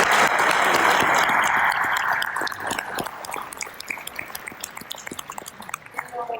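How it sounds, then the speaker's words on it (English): A room full of people applauds educators at a gathering: a full, loud burst of clapping that gradually thins into scattered individual claps. "give them a round of applause"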